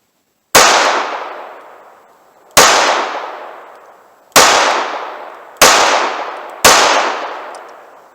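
.38 Special snub nose revolver fired five times at roughly one- to two-second intervals, each shot a sharp loud crack followed by a long decaying echo, close and with no talking.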